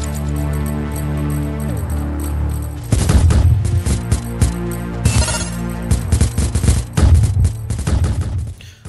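Rapid weapon fire in the arcade shooter Glitchskier, a loud dense burst of repeated shots and impacts over electronic game music, starting a few seconds in and continuing with a few pauses.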